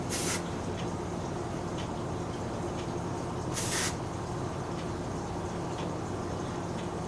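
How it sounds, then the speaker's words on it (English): Hairspray hisses in two short bursts onto a hand, a few seconds apart, each sharp and close over a steady low background hum. "So I'm going to spray my hand"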